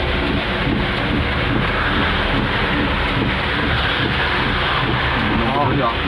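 Strong wind buffets a stopped car and the microphone, a loud, continuous roar with no break through the whole stretch.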